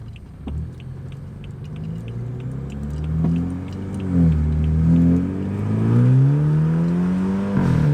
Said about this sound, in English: we're gonna try to drive it a little bit.